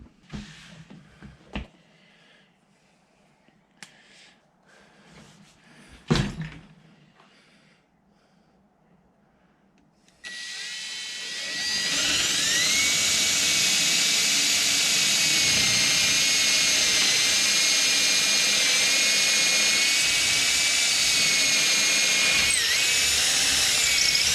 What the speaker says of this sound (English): Now I just drill my hole to the side of that.